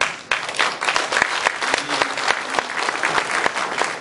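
Lecture audience in Gyeongnam applauding Yoo Si-min, a dense burst of many hands clapping that starts abruptly and carries on steadily and loudly without pause.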